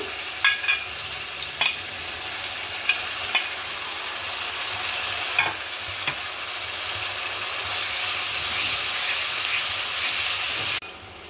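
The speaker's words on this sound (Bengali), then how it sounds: "আমি যে মশলাটা প্রথম থেকে মাখিয়ে রেখেছিলাম সেটা এবার দিয়ে মশলাটা কষিয়ে নেব" A pre-marinated spice masala with tomato and green chili fries for chicken tikka biryani, making a steady hissing sizzle broken by a few sharp clinks of stirring. The frying swells louder near the end, then drops abruptly, with no voices.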